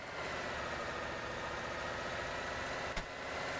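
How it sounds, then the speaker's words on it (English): A truck engine idles in the TruckersMP driving game, a steady mid-to-low rumbling drone that holds even throughout with one brief click near the end and no voices. "Some random engine sound."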